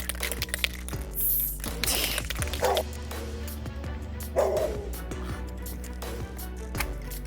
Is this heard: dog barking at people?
yes